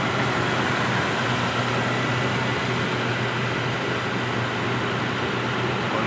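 Steady idle of a Mitsubishi Pajero's 3.8-litre V6, a continuous low engine hum with a broad, even rumble that holds constant throughout, with no voices over it.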